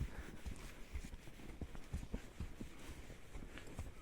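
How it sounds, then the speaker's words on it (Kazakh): A chestnut stallion walking, its hooves striking in a steady regular clip-clop rhythm, fairly faint and close over a soft background hiss. "Жирен айғырмен саяхат."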